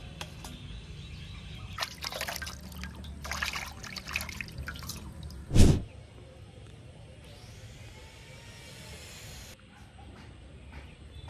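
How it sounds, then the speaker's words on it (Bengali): Water sloshing and trickling as cut pieces of native chicken are rinsed in a bowl during home cooking, a steady wet rustle with one loud clunk midway. "এখন পরিষ্কার করে ধুয়ে নিই।"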